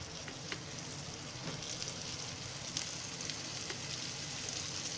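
Flour-coated pieces of shark fish frying in hot oil, giving a steady, dense sizzle that runs unbroken and close throughout with faint crackles and no talk.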